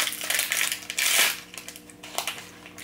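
A bag of 100% vegan sesame snacks is torn and crinkled open up close, giving continuous bright rustling and crackling of packaging with a louder rip midway.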